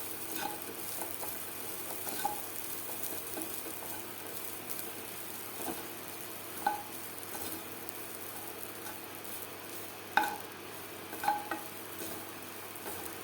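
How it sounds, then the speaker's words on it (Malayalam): Grated coconut dry-roasts in a pan over a low gas flame, making a quiet, steady rustling sizzle punctuated by occasional sharp spatula scrapes and taps, with no voices. "ഒരു 5 മിനിറ്റ് നേരം നമുക്കിതൊന്ന് തേങ്ങയും കൂടെ ഒന്ന് വറുത്തെടുക്കാം"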